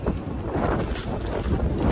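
Gusty wind buffets the microphone outdoors in the Bronx with a loud, low rumble that swells and eases, with no voices present.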